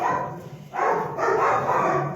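A frightened stray dog, dumped from a car, lets out a few short whining barks and yelps in uneven bursts, fairly close and with no talk over it.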